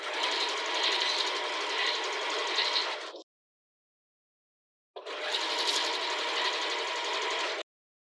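A sewing machine stitches a sports bra strap in two steady runs of about three seconds each, separated by a short pause, loud and close with no talking.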